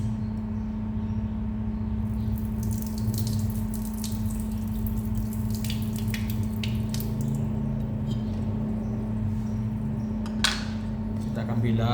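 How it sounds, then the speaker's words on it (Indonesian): Taro corms rinsed under a running tap, a steady rush of water with sink splashing and occasional drips throughout, close by. "Terlebih dahulu kita bilas."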